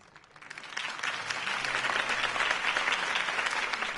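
Applause in a Batman video game swells from a quiet start into steady, dense clapping from a large crowd after a campaign speech, sustained and fairly loud throughout.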